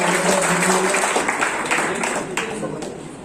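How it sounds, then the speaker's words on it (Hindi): Audience applause greets a newly elected mayor at a welcome ceremony in Satna, a broad steady wash of clapping that fades slightly toward the end, with a voice briefly heard underneath at the start. "तो एक बार जोरदार तालियां"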